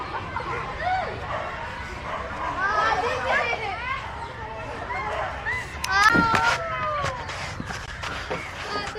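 A dog barks and yips in short bursts at a walkway by a park, close and fairly loud, mixed with children's voices and chatter.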